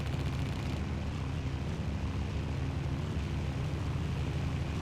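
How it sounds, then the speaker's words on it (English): Propeller-driven World War II warplanes in the game Battlefield 1942, an SBD Dauntless and a Zero, dogfighting with a steady, loud engine drone that holds throughout without pause, no voices. "Let's see if we can get some of the dogfighting action going in."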